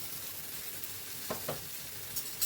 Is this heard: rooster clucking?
no